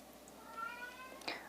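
A cat gives a single drawn-out, rising meow close by, over faint room background.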